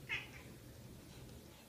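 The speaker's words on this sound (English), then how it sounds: "Be gentle with the kitty." A single short cat meow sounds near the start, quiet and brief, followed by a low steady background hum with no talking.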